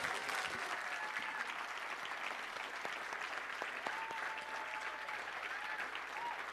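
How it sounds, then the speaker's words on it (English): Steady crowd applause fills a speaking event, a dense, even wash of clapping with faint tones and vocal sounds mixed in beneath it. "Give him a round of applause"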